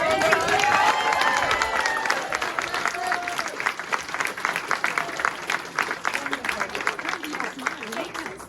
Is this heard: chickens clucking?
no